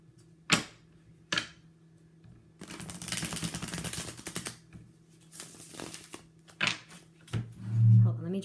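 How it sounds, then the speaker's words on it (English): Tarot cards being shuffled in a riffling, papery flurry, with a few sharp taps, a long dense burst in the middle and a shorter one later, all close and moderately loud, with no voices over them. "let me just shuffle first"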